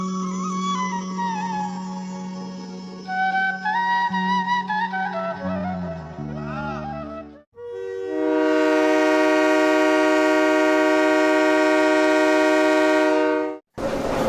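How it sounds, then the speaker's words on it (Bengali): A train pulls into Phultala railway station on the line toward Mongla, with changing pitched whistles and horn tones followed by a long, loud sustained horn blast up close. "ফুলতলা রেলওয়ে স্টেশনে 11টা 30 মিনিটে ট্রেনটি প্রবেশ করে"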